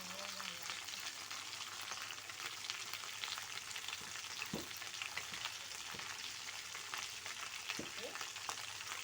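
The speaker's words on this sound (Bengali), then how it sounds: "ভেন্ডিটা আমার ভাজা ভাজা হয়ে এসছে" Okra frying in a pan for a thin Bengali curry, a continuous dense sizzle and crackle with occasional clicks of stirring, steady and close throughout.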